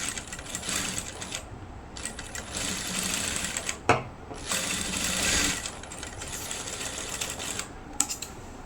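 A sewing machine stitching a chudidhar runs in steady rapid bursts of mechanical whirring and needle clatter, close and clear, separated by short pauses and a sharp clack or two as the fabric is handled.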